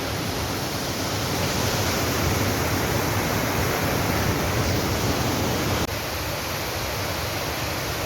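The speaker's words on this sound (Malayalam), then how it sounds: "ഏറ്റിലെ ടോപ്പിലുള്ള വെള്ളച്ചാട്ടമാണിത് കാണിക്കുന്നത്" Waterfall at the top of a very high drop, heard as a steady, broad roar of falling water that stays loud and even throughout, dipping slightly near the end, with no voices.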